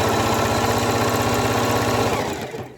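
A sewing machine runs steadily, stitching two layered ribbons together for a fiesta tutu, its rapid needle rhythm loud and continuous before slowing and fading out near the end.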